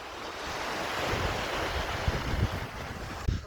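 Waves breaking on a wide Baltic Sea beach at Jarosławiec, with wind buffeting the microphone; a steady low rush of surf with a few gusty thumps, fairly quiet overall and no voices.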